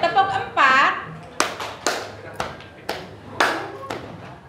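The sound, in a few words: pupils clapping hands in a counting game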